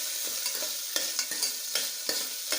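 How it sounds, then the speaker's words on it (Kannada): Chopped onion frying in oil in a pan for coconut-milk veg pulao, a steady close sizzle broken by regular scraping stirs of a spoon, with no voices. "ಇದು ಸ್ವಲ್ಪ ಫ್ರೈ ಆಗಲಿ"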